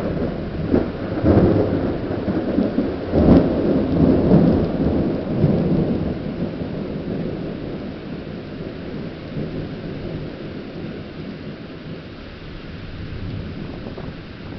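A thunderstorm in Wheeling, West Virginia, with steady rain hissing throughout, several deep thunder rumbles early on and wind buffeting the microphone, loud at first and settling into a constant wash of rain.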